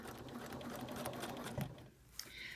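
A sewing machine runs a straight stitch while a community quilt is pieced, a steady fast mechanical whir and patter close by that slows and stops near the end.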